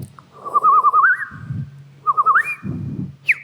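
A woman imitates a bird with her voice, producing warbling, trilling whistle-like calls in two rising phrases, close and fairly loud, over a low breathy hum.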